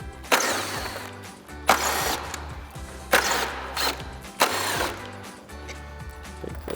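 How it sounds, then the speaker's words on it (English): An impact wrench with a 7mm socket removes bumper mounting screws on a Jeep Wrangler JL, firing four loud rattling bursts of about a second each, separated by short pauses, close and without speech. "We're gonna grab our 7mm socket on our impact and remove the 4 mounting screws."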